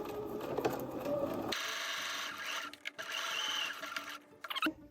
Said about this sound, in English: we're gonna line up our sewing machine foot so that we're gonna sew right along or just to the outside of this reinforcement stitching line